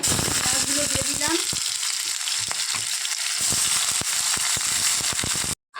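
Onions hitting hot oil already holding dried chillies and bay leaves, a loud, dense, crackling sizzle right up close that stays steady before cutting off abruptly near the end, with a brief voice early on.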